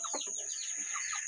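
Native chicken clucking close by, a quick run of several short, bright clucks over a steady high background tone, with no talking.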